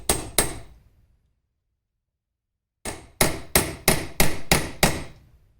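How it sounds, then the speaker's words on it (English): Hammer striking a rivet whose head rests on a vise, mushrooming it over while making a parasol stick: two sharp metallic blows, a long silence, then seven evenly spaced loud clangs, close and alone. "the head of the rivet is now sitting on the vise, and we're going to see if we can rivet this over"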